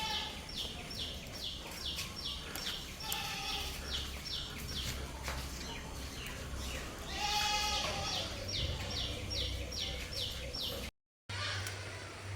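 Three large Malabari goats and three young kids bleat again and again, close and fairly loud, with the repeated calls overlapping a steady outdoor background hum.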